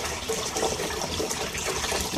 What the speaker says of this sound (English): So basically 5 times an hour, this will fill and drain, fill and drain.